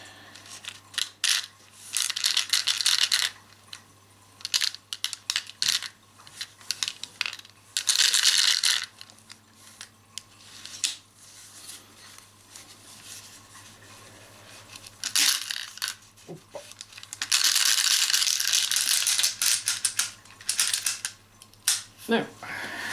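Small metal clicks, taps and rattles come close up while bolts are handled and loaded into an Umarex HDP50 pistol, in uneven clusters with a faint hum between.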